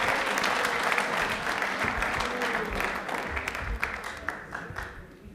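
Studio audience on a televised quiz show bursts into loud, dense applause that carries on for several seconds before gradually thinning and fading toward the end.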